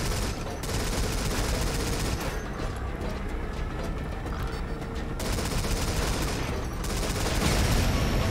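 Mounted machine gun cover fire in Metal Gear Solid V: Phantom Pain rattles in dense continuous bursts with heavy low rumble, briefly easing mid-clip before surging again, loud and close.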